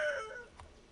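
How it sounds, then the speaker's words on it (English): A rooster's crow trails off at a distance, a fading drawn-out call that is faint and alone against a quiet background. "That's my rooster."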